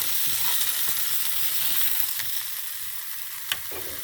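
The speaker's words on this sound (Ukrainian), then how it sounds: "обжарити треба картоплю трошки" Continuous crackling sizzle of potatoes frying in hot oil in a pan, steady and close, with occasional louder pops.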